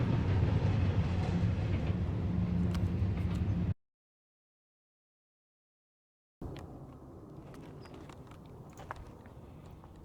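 A loud rumbling BNSF and Union Pacific freight train climbing Cajon Pass rolls by with clattering wheels, cutting to silence midway, then resuming more distantly with scattered metallic clicks and squeaks.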